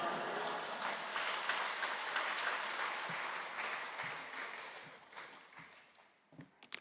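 A congregation at a dawn worship service at Yoido Full Gospel Church claps to welcome the preacher to the pulpit. The dense, steady applause fills the room, then thins and fades to a few scattered claps.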